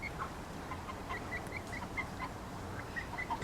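Free-ranging backyard chickens in an urban permaculture garden give soft, scattered clucks and short calls at a moderate distance over a steady outdoor hush, with no one speaking.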